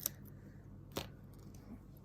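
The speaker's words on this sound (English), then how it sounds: "I've got to get scissors on it." Scissors snip at sticky material on a flexible practice hand, giving a few quiet, sharp cuts spaced across a faint background.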